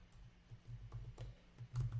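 Quiet typing on a computer keyboard while installing a WordPress plugin, an irregular run of soft key clicks with a slightly louder burst near the end, no talk over it.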